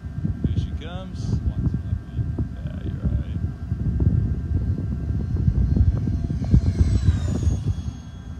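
A MotionRC PJ50 twin 70mm RC jet flies high overhead at an outdoor field, its faint, distant whine and hum running under a voice.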